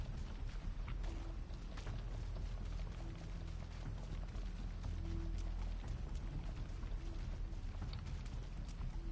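Steady rain pours in a GTA video game, a dense, even hiss with scattered pattering that holds at a constant level throughout, with no voices over it.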